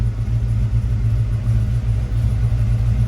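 A 1995 Impala SS V8 rumbles low and steady at idle, with slight surges as it revs on its own without throttle input. It sounds close and continuous, and no one speaks.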